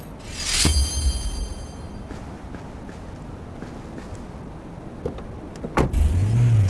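A car in the open-world game City of Outlaws drives along, a steady low engine drone with a sharp electronic chime near the start and a rising rev toward the end.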